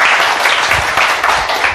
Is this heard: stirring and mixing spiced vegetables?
no